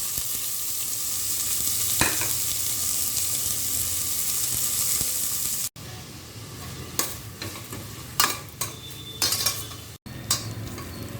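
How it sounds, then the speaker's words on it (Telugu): Chopped onions and green chillies frying in oil for rajma masala curry, a loud continuous sizzle with a break partway, then metal spoon scrapes and clinks against the pan, close and without talk. "ఉల్లిపాయ బాగా వేగిపోయింది కదా"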